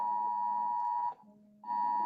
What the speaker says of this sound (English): I'm afraid we have another alarm here we go.